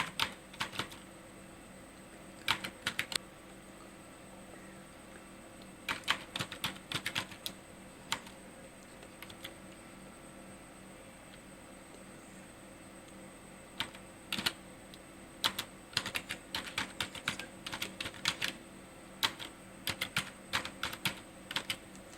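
Typing on a computer keyboard while entering a narration in Tally Prime accounting software, with scattered bursts of quick key clicks separated by pauses, close and fairly quiet over a steady background hum.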